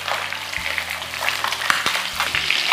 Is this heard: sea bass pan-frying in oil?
yes